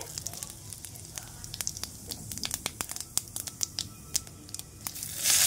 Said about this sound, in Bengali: ফোড়নে দিয়ে দেবো জিরে